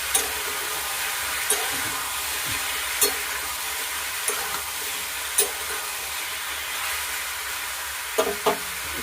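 Bottle gourd and potatoes are stir-fried for a prawn curry, giving a steady low sizzle in the pan. Sharp spoon scrapes and clinks cut in at irregular intervals, about every second or two, with no talking.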